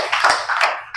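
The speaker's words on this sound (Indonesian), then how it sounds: "Tepuk tangan lagi." Classroom students clap together in a short, lively burst of applause, with several uneven rhythmic pulses of hand claps.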